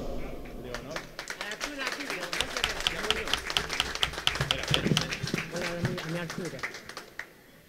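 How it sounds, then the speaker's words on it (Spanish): An audience applauds at an evening gathering of parranda folk music groups in Valle Los Nueve, with warm, sustained clapping and dense individual hand claps that fade out at the end, while voices murmur underneath. "para la que pido un cariñoso aplauso"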